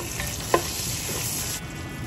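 Whole spices (bay leaves, a cinnamon stick, green and black cardamom and cloves) sizzle in butter and oil in a pan, a steady close hiss with one brief stir clack.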